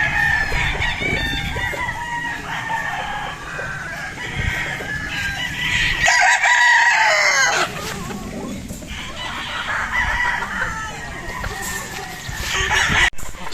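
Red Game Farm Gilmore gamefowl roosters crow repeatedly, with clucks mixed in. Several birds call at moderate distance over a farmyard background, with a brief louder burst partway through.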